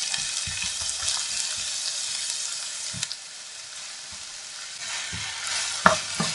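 Chopped onions sizzle and fry in a pan, a steady hissing crackle, with occasional scrapes and clinks of stirring.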